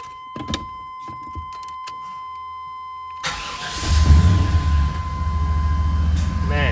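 After a battery is reconnected, a truck engine cranks and catches. A few quiet clicks and a faint steady tone come first, then a sudden loud rumble of the engine turning over and running close by.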